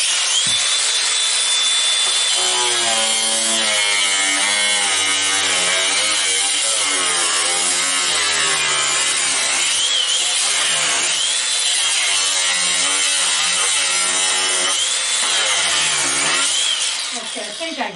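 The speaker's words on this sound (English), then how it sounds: "cutting through the metal wasn't the problem" A power tool grinds steadily and loudly through a rusted, seized metal bolt encased in plastic for a long stretch, with a shrill whining tone that wavers under load.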